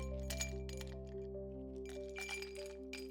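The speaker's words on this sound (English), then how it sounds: "I can even hear the ice cubes clinking around in her shaker" Ice cubes clink inside a cocktail shaker in a video game, bright glassy taps scattered over a steady tonal backdrop of game music, close and clear with no voices.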